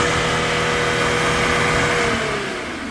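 A Hyundai Veracruz with about 370,000 km on it revs hard during an exhaust smoke emissions test. Its engine holds a loud, steady high rev for about two seconds, then begins to ease off near the end.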